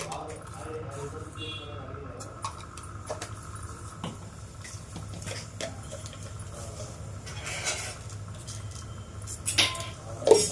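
Spices for tempering sizzle and crackle in hot oil while wheat rava upma is made, a low steady fizz with faint pops and light utensil clinks throughout.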